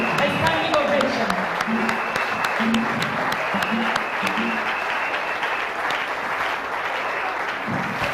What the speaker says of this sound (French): I want you to be on your feet so we can give you an ovation.